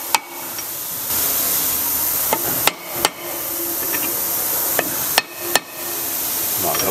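Light metallic taps on the valve guides of a BMW motorcycle engine, checking for looseness, in a workshop: a handful of sharp, isolated clicks spaced irregularly over a steady background hiss, with no talking.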